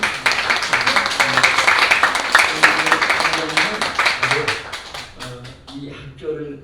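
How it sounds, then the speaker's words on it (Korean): Seated audience clapping at a founding worship service for a Korean theological graduate university, dense steady applause with sharp hand claps that tapers off near the end, a voice speaking faintly underneath. "우리 정지훈 총장님 앉아서 박수 한번 해주세요."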